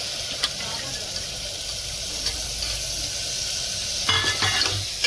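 Spices and chana dal stirred in a frying pan, a soft continuous sizzle with a light scraping stir, fairly quiet, with a few brief louder clatters near the end.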